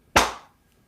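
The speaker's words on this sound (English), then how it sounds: "I'm going to clap and then we'll take us into it." A single sharp hand clap, close and loud, at the start of a live show, ringing out alone with a quick decaying tail.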